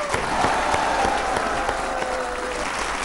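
Sustained audience applause fills a Hindi poetry gathering, the KV Sammelan kavi sammelan, after a singer's appearance; dense steady clapping from a crowd, loud and even throughout with a faint tonal hum beneath.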